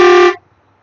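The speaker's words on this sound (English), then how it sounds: "air horn for country" A truck's air horn, one of its in-cab horns, gives a single loud, steady blast of about a third of a second. It cuts off abruptly into near silence with a faint cab hum.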